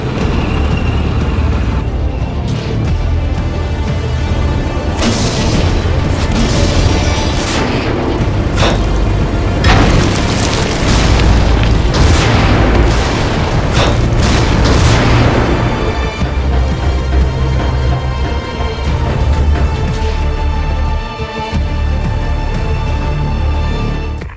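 Cartoon tanks firing their cannons in an animated battle, repeated heavy booms and blasts in dense bursts over a continuous rumbling engine and battle din, loud and close throughout.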